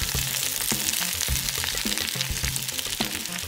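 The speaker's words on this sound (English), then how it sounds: "we'll saute these up until the onions start getting a little translucent" Onions and kielbasa sauteing in a Dutch oven, a dense, loud sizzle that runs without a break, with soft stirring knocks and scrapes every half second or so.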